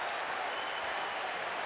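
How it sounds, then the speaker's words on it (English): A football crowd in the stands celebrates a home goal with a continuous, even roar of cheering and applause, steady and somewhat distant. "And listen to the crowd. They're back and celebrating a home goal."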